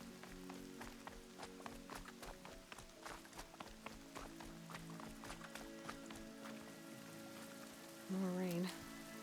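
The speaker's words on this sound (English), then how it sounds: "More rain. My boots will get damp." Rain falling in the video game Horizon Zero Dawn, a steady patter of drops under a low ambient drone, with a brief vocal-like burst near the end.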